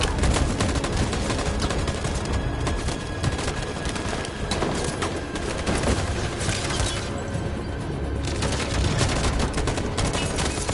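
Gunfire erupts in the video game Detroit: Become Human as a dense, continuous barrage of rapid shots and bursts, loud and close, layered with scattered impacts and no clear speech.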